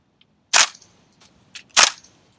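AR-15 M4 conversion firing man marker training rounds, two sharp, loud cracking shots about a second apart with faint clicks between them.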